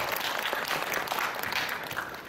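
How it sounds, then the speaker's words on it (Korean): Enthusiastic applause from a concert audience before a piano performance, a dense patter of clapping that fills the moment from start to finish at moderate volume. "여러분 응원의 박수 부탁드리겠습니다"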